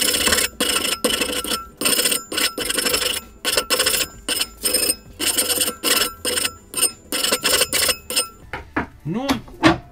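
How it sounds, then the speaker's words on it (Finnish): A hand file rasps across a workpiece in quick, regular strokes, each a bright scraping burst separated by short pauses, close and fairly loud, with a brief squeak near the end. "Sitten vähän viilataan"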